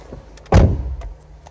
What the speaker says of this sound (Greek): Μπαίνουμε στο αυτοκίνητο.